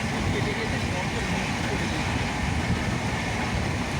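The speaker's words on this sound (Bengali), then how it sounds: "ট্রেন ঘন্টায় এখানে 120, 115, 110 স্পিডে যাচ্ছে" Sealdah Ajmer SF Express train running at about 110 to 120 km/h, a loud continuous rumble with steady wheel clatter heard from on board.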